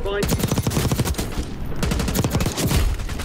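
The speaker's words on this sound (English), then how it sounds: "Enemy precision airstrike." In the Warzone Black Ops 6 video game, an enemy precision airstrike hits nearby as a loud, continuous barrage of rapid blasts and crackling gunfire that keeps going with hardly a break.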